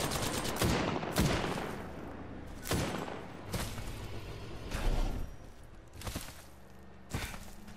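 Gunshots ring out in a video game, about seven sharp, separate bursts spread unevenly across the stretch, each cracking out loudly over a low background with no talking.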